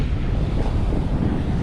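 Ocean waves rumbling continuously on a beach strewn with washed-up debris, heavily buffeted by strong wind noise across the microphone.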